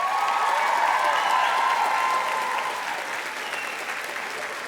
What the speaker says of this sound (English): I invite you now to applaud the professors and staff of AUP